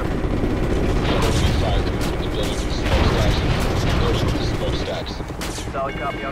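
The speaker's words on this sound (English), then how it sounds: "A lot of machine gun fire down there." Sustained machine gun fire and scattered explosions from the Call of Duty: Ghosts battlefield, a dense continuous roar of rapid shots that stays loud throughout, with voices faintly mixed in.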